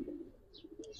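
Khaki Giribaz pigeon, a hen, gives a soft, brief coo with faint higher chirps, close and quiet over low background noise.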